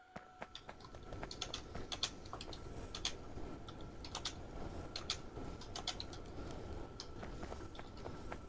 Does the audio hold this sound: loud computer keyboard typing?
yes